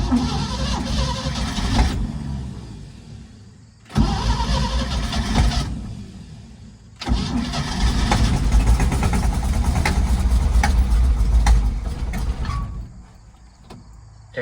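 A 1957 Chevy barn find, with dirt in the flywheel teeth, cranks in two loud bursts with pauses, then catches and runs roughly for several seconds before dying down.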